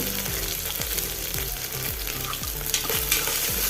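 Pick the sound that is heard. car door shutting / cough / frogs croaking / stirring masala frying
stirring masala frying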